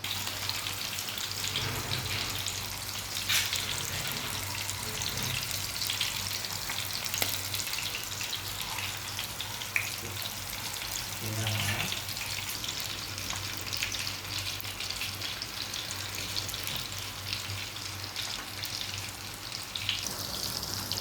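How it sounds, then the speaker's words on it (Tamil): Fish frying in hot oil in a kadai, a continuous close sizzle and crackle with occasional sharper spits and clatters over the steady hiss. "இங்கே வந்து கடாயில் வந்து எண்ணெய் சூடாகுது சரியாக பாருங்கள்"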